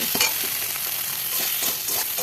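Spice paste frying in a pan while being stirred, a steady dense sizzle with soft scraping strokes of the spoon repeating under it, close and fairly loud.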